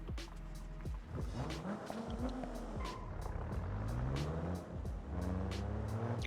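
In the BeamNG driving game, a Vivace wagon drift car revs its engine and squeals its tires in long wavering slides, loud and continuous, with rising and falling engine tones and no talking.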